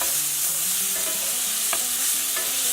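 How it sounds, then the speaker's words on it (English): Ginger stirred and fried in a pan, with a constant soft sizzle and a couple of sharp utensil knocks, while a gentle melodic tone plays faintly in the background. "I'm going to add the ginger. Mix this together"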